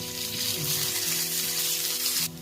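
Oil hisses and sizzles steadily in a pan over roasted peanuts and garlic, a close, continuous frying sound that cuts off near the end, with no talking.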